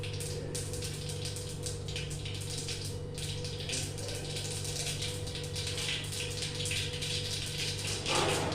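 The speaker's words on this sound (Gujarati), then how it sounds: "હવે હું શું કરું છું, આમાં પાણી નાખું છું." Water poured into a pot of sambhar with brinjal, tomato and drumsticks on a gas stove, a continuous splashing gush running steadily for several seconds over a low hum.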